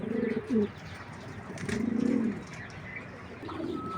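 Red checker racing pigeons, large birds kept for sale, coo in low throaty bursts close by, two or three rolling calls over a soft background murmur.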